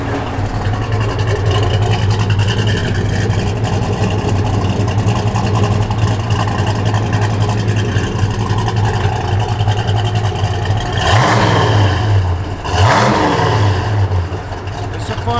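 A 1969 Chevrolet Chevelle SS engine runs with a steady, loud low rumble throughout, rising into two sharp revs near the end.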